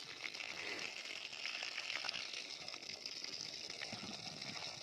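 Water from a motor pump gushes into the basin around a tree on high school grounds. It makes a steady, fairly loud rushing hiss with no voices.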